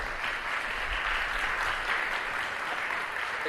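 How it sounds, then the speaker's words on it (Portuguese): An audience at a business event on Brazilian fund regulation gives a round of applause, a soft, even patter of many hands heard from some distance that holds steady throughout. "Uma salva de palmas, por favor."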